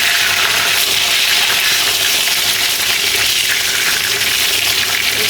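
Fish frying in a pan gives a loud, close, continuous sizzling hiss with crackling spatter throughout, and nobody talks.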